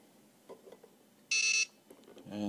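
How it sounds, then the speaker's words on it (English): A bed bug detector gives one loud, high-pitched electronic beep lasting about a third of a second, close by, amid soft handling noise and a brief voice at the end. "we've got our bed bug detector warmed up"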